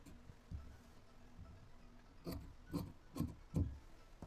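Scissors cutting fabric for the front neck of a nighty, a few soft rasping snips near the end that follow quieter rubbing of cloth, with no one talking.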